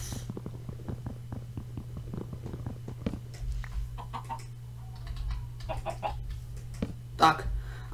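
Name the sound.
chickens clucking in Minecraft video game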